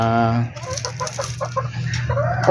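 Chickens cluck close by around a Siamese rooster and hens at a small backyard coop, short broken calls overlapping a low steady hum, with a sharper squawk near the end.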